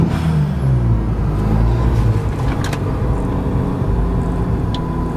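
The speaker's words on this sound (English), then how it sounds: "But the car is revving now." Mazda FD RX7 rotary engine revving with a loud, steady, close drone, pitch dipping slightly early on and then holding level throughout.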